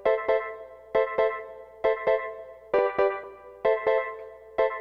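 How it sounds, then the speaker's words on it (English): A reggae bubble organ plays a bouncy, staccato chord pattern in a steady offbeat rhythm, clear and upfront with short repeated stabs and no talk. "this part here is an organ line that was really just kind of doing that bubble,"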